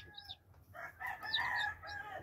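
Broody game hen and her chicks on a farm floor, with clucks and chirps that come and go over about two seconds, fairly close and moderately loud, with no talk.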